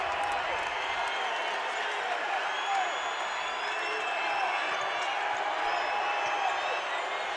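A basketball arena crowd at a UAB vs UTEP men's college game roars in a steady, loud wash of cheering and whoops that does not let up, while a commentator talks over it.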